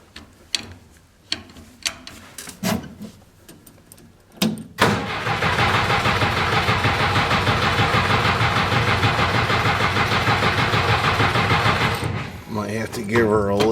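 An old engine, unused for about two months, is cranked by its starter. A few short bursts and clicks lead into roughly seven seconds of loud, continuous churning, and the sound fades at the end.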